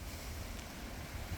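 Strong wind blows steadily ahead of a storm in Melbourne, a constant low roar buffeting the microphone with no voices.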